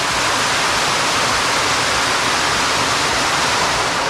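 Water pours out of a boulder cave pool in the Theth valley of the Albanian Alps, making a loud, steady, close rushing roar like a small waterfall that never lets up.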